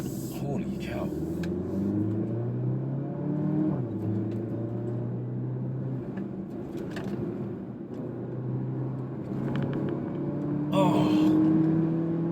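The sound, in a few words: 2019 Porsche Macan 2.0L four-cylinder SUV driving through corners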